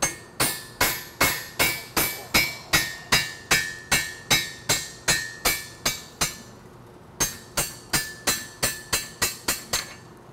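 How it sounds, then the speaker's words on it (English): A half-inch bolt is struck repeatedly with a hammer to drive out a spring pin holding an adjustable beam leg to its base: a steady run of sharp metallic clinks with ringing tails, a brief pause, then more blows. "Anything with a half-inch diameter shaft can be used to drive out the spring pin."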